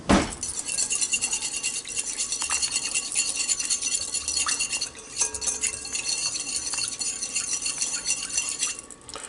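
Wire whisk clinking steadily against a bowl while mixing a marinade of Bragg's and spices, a continuous rapid metallic tapping and scraping up close with no talking.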